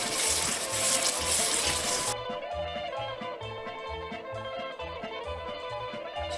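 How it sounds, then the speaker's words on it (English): Greek halva mixture in a pot spatters loudly at first as it is stirred and more is added, then drops to a softer, steady bubbling hiss with a faint tonal background. "initially it does a lot of splattering, and we just keep adding and keep stirring"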